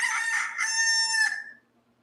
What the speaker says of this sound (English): You hear that rooster crowing